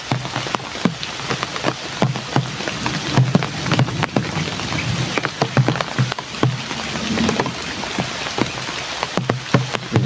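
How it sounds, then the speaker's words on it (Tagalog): Steady rain falls on a surface, a dense continuous patter of drops with scattered louder taps, close and even throughout with no voices. "Medyo tumila ng ulan."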